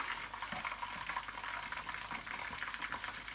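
Chicken pieces with onion and spring onion frying in a pan, turned as they brown like chicken pakoda; a steady close crackling sizzle with bubbling, continuous and moderately loud, no talking.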